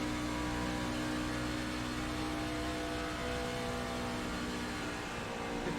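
A race truck's engine holds a steady, loud roar under throttle on track at Atlanta, a constant whirring drone for several seconds with no voices.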